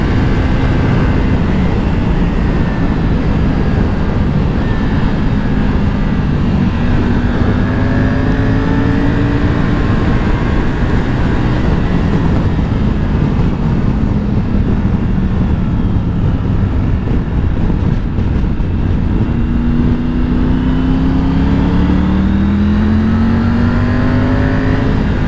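A touring motorcycle engine, a Yamaha Tracer 9 GT or Triumph Tiger 900, drones loudly and continuously on the road, its pitch rising and falling through gear changes with strong wind rush and no talking.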